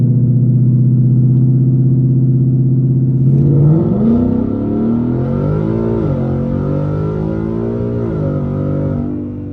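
A 10-speed Ford Mustang GT launches from a 2000 RPM hold on the street, its engine droning steadily before surging and climbing in pitch through gear changes, loud and close, with no voices.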